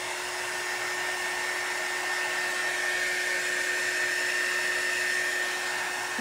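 A hair dryer blows steadily on fresh guava-colored paint over dark wood, a continuous close whir with a faint high whine, no voices.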